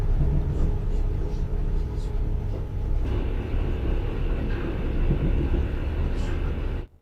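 A train rolls along the rails with a steady, loud rumble and rattle, its tone shifting partway through before the sound cuts off abruptly at the end.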